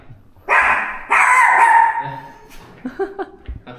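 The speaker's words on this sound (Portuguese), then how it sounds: "Cachorro." A dog in a house in an upscale São Paulo neighborhood barks twice in loud, close, drawn-out bursts, followed by a few shorter yips and whimpers, with no talking over it.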